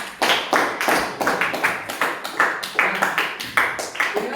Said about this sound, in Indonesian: tepuk tangan untuk 5 orang yang top 5